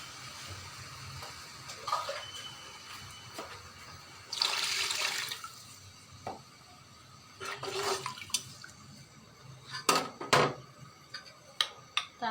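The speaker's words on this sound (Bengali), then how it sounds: "কষানো আমার হয়ে গেছে, এখন ঝোল দিয়ে দিলাম।" Liquid broth poured into a pan of fish curry cooking with banana, a few splashy pouring bursts with clinks between them, close and fairly quiet, no talking.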